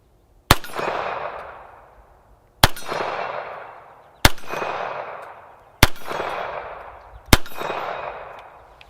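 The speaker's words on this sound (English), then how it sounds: "I'll get it nice and close to the camera when I shoot it this time." Five loud gunshots from a military surplus 1911-style pistol at an outdoor range, fired close to the microphone at steady intervals of about one and a half seconds, each crack trailing off into a long echo.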